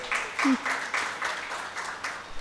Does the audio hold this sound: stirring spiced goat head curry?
no